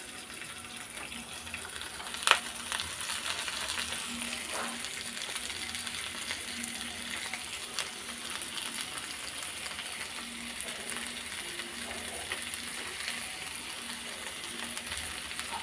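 Green chilli, onion, grated coconut and coriander frying in a pan for chutney, giving a steady, even sizzle that runs throughout with a few faint clinks, no voices.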